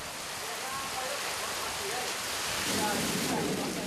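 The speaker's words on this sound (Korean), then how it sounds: "갑자기 굵어지는 빗줄기." Heavy tropical rain pours down steadily in rural Vietnam, a dense, loud hiss that swells slightly toward the end, with faint voices underneath.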